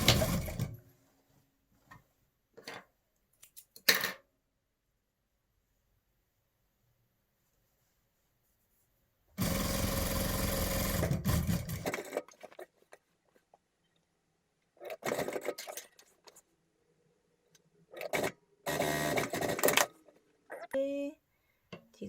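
A sewing machine stitches the slit and hem of a T-shirt in short bursts of fast whirring, separated by long quiet gaps and brief handling noises.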